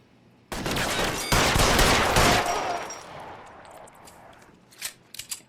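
Loud, sustained barrage of gunfire in L.A. Noire, dense overlapping shots for about two seconds that then taper into scattered, fading pops and a few final sharp cracks.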